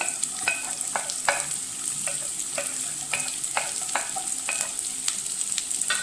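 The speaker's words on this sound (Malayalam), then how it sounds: "അതിലേക്ക് എണ്ണ ചൂടായി വെളുത്തുള്ളി, ഇഞ്ചി, പച്ചമുളക്" Garlic, ginger and green chili frying in hot oil, a constant bright sizzle punctuated by regular scraping strokes of a spoon stirring the pan, close and alone without talk.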